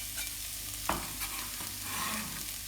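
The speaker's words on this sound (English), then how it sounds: "we just want to sweat these onions down in this chili oil" Onions frying in chili oil in a pan give a soft, steady sizzle with a brief stirring scrape, close and fairly quiet, with no voices.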